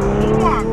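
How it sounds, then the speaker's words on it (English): A car fitted with an FI Exhaust system revs up with a loud, close, sustained engine roar, while people talk over it. "Do you hear that? Oh, y'all hear that? FI Exhaust"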